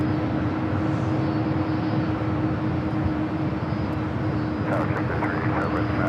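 An airliner taking off at Los Angeles airport, a steady, loud engine roar with a sustained hum that holds throughout, with radio voices faint beneath it.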